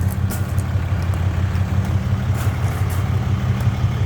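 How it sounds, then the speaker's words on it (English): A truck's engine while driving, heard as a continuous deep, pulsing rumble from inside the cab, loud and steady throughout, with a few faint clicks above it. "Just driving my truck, right?"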